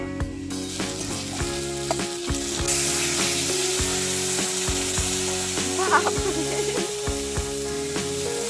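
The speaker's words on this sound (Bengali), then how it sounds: "মা এখন মাছ ভাজছে" Fish fries in a pan at home, and a loud, dense, continuous sizzle fills the whole stretch, with occasional spatters and utensil clinks and no one speaking.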